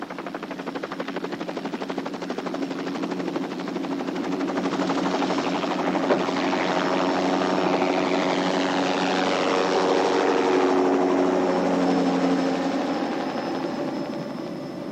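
A helicopter's rotor thumps and engine drone fill the air continuously over the North Johnson River, loud and close, swelling slightly as it passes overhead.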